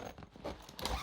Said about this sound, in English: So this zips all the way down,